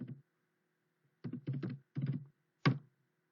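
PowerShell commands are typed on a keyboard in quick close bursts, several rapid clattering groups of keystrokes separated by brief pauses, ending with a single sharper key press, in a quiet room.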